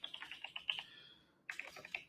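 Bursts of rapid key clicks on a computer keyboard with faulty keys, a quick run of taps, a pause of about half a second, then another burst, close and fairly quiet with no voice.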